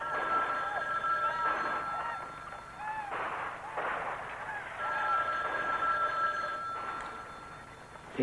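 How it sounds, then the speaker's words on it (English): A telephone rings repeatedly in a house, its bell sounding in steady bursts at moderate level throughout, with no talk over it. "Take the phone off the hook, Turkey."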